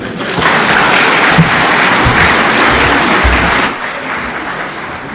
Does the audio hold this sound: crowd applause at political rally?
yes